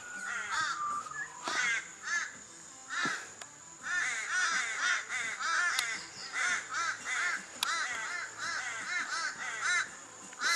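Crows caw repeatedly near a beach, harsh rhythmic calls overlapping from several birds at moderate distance, continuing throughout with faint background noise.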